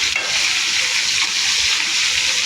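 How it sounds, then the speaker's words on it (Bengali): Eggplant slices frying in plenty of oil, giving a loud, steady, close-up sizzle and crackle that holds constant throughout with no voices. "এভাবে আমি ভেজে নিচ্ছি"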